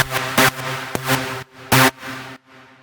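A Sylenth1 synth lead preset in a big EDM drop style plays a chordal stab pattern, bright sustained notes broken by short louder hits and a brief gap, ending on a quieter tail. No voices.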